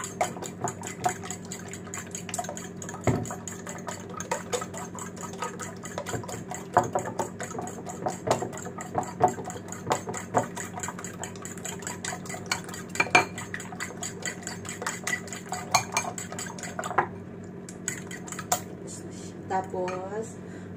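Fresh milk is stirred into batter with a utensil scraping and clinking against a bowl in steady repeated taps over a low engine-like hum, with occasional talking.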